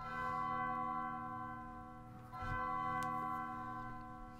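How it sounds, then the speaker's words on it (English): A bell chiming in a cathedral in the game Undertale, sustained resonant bell tones hanging over a low drone, with a soft strike near the middle renewing the ringing. "Bell chimes."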